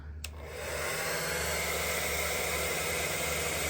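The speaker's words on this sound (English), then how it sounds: "Let's see if I turn on the hair dryer together." A hair dryer powered by a DIY 3.5k PowMr power station clicks on and then runs with a loud, steady whooshing blow alongside a low hum.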